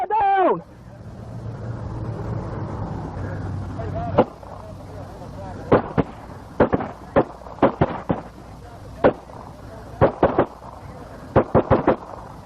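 Assault rifle gunshots ring out in a police shootout, a series of sharp, loud cracks fired singly and in quick bursts over about eight seconds, near and echoing, with a low rumble and voices underneath.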